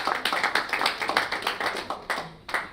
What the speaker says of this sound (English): If we can give him a round of applause as he comes forward